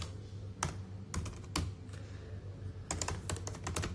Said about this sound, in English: what is wrong with this person with her terrible typing skills?